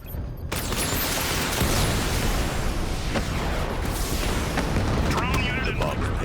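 Missiles fired from the Batmobile in the video game Arkham Knight, detonating in a dense, continuous barrage of loud rumbling booms and blasts, with a narrator's voice talking over the chaos.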